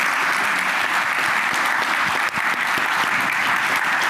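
Conference audience at a MongoDB World talk applauding steadily and loudly throughout, a dense sustained clapping with no break.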